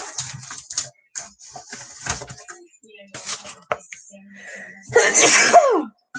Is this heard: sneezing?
yes